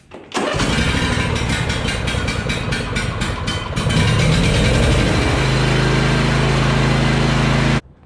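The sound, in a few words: John Deere D140 riding mower engine starting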